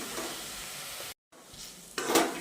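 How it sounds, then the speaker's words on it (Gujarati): Chopped onions sizzle steadily in a pan as they are stirred and turned, with a brief silent gap before the frying hiss swells again, close and alone. "હવે એને ડુંગળીને બરાબર શેકાવા દઈએ."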